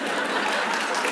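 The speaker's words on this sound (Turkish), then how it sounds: "Bu alkışlar keşke bize gelmiş olsa" Dense, steady applause from a television show studio audience, a continuous wash of clapping hands throughout.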